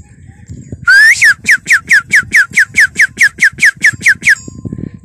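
A person whistles to call livestock at a mountain pasture, a rapid series of about fourteen short, rising-falling notes in a steady rhythm, loud and close, with faint background noise.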